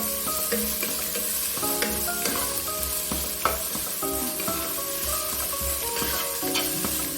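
Sliced onions fry in oil for a fish biryani, a dense close sizzle with repeated stirring scrapes and clinks of a spatula against the pan throughout, no voices.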